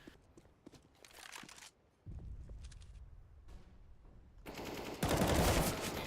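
Rapid bursts of gunfire from a first-person shooter game played in an amateur league match, crackling shots in quick clusters that build louder toward the end, with no talking over them.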